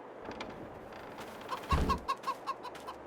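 Several short, rhythmic clucks from chickens in a coop in Farming Simulator 22, fairly close and clear over a quiet low hum.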